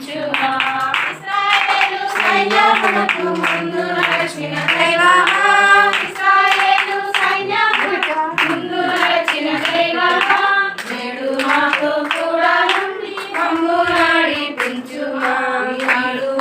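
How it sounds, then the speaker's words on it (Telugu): Rhythmic hand clapping from a gathered group at a Christian wedding invitation release, steady throughout and mixed under continuous loud singing voices. "చప్పట్లు చప్పట్లు"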